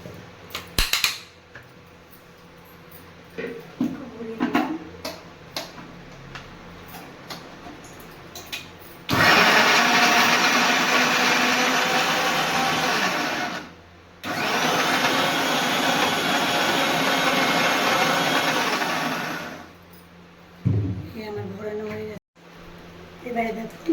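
A mixer grinder whirs loudly and steadily for about five seconds, stops briefly, then runs again for several more seconds, grinding fried small shrimp with onion, garlic, green chili and tomato; quieter clatter and handling sounds come before and after.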